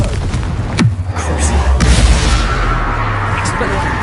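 A Confringo blasting spell from Hogwarts Legacy erupts in a loud, booming burst amid continuous game combat noise, with a low rumbling tail over dense, busy sound.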